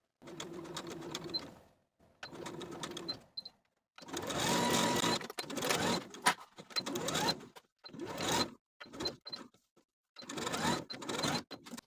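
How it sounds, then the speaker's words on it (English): A sewing machine stitches a welt pocket on a linen jacket, running in several bursts of rapid, whirring stitches separated by brief pauses, fairly quiet and close with no talking. "As I was stitching the triangular edges of that welt area to the pocket"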